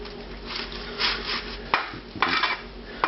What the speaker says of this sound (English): you need to move it around on the pan